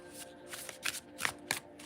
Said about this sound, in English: They're easy to shuffle.